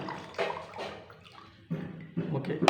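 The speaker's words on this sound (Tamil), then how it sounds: "இந்த தண்ணி இதில் ஊற்றுற தண்ணியை அப்படியே இதில் எடுத்து ஊற்றுறேன் பாருங்கள்" Water is poured onto a Just Leap sanitary napkin in a few short splashing bursts separated by brief pauses, close by and fairly loud.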